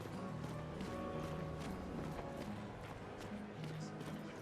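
Horse hooves clip-clop in the video game Clair Obscur: Expedition 33, a steady, soft rhythmic trotting set low beneath continuous game ambience and music.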